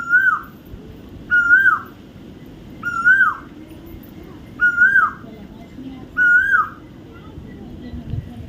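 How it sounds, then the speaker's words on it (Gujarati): An Asian koel calls repeatedly from a tree in a Gujarat village after rain, five loud rising whistled notes at regular intervals of about a second and a half, clear over quiet background. "કોયલ તો કારા કરતી હોય"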